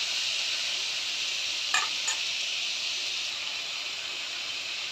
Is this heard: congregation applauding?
no